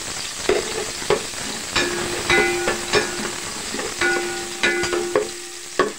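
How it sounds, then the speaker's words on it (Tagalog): Garlic sautés in a hot pan with a constant close sizzle, punctuated by repeated metallic scrapes and clinks of stirring at a loose, irregular rhythm; no voices. "Lagay na po natin ang bawang."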